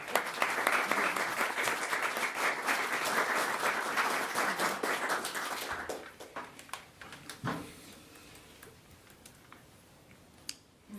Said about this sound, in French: on peut déjà l'applaudir aussi.